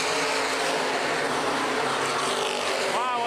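Open wheel modified race cars roar as they accelerate on a restart at Baer Field Speedway, a loud, sustained engine drone with a commentator talking over it.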